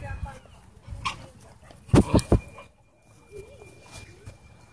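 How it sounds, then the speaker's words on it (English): At a dog park, a dog gives a few short barks and yips during play amid rustling movement, with other people talking nearby. "I just noticed when she's playing, she never makes that sort of growl."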